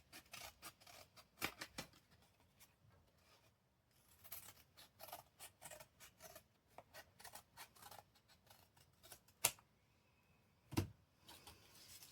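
Scissors trimming paper for mixed media craft tags: a run of quiet, close snips and rustles, irregular and spaced out, with a couple of sharper clicks near the end.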